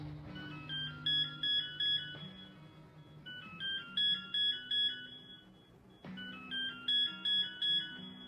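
A telephone rings repeatedly before the call drops to voicemail, each ring a loud, clear electronic warble in evenly spaced bursts with pauses between, heard alone without talk.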